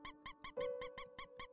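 Mouse squeaks from the video game Undertale, a rapid string of about eight short, bright chirps in even rhythm, with a sustained tone entering partway through beneath them.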